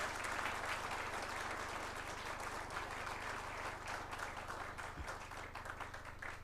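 A crowd at a Hindi political speech breaks into sustained applause, a dense, even wash of clapping that sounds fairly distant and faint.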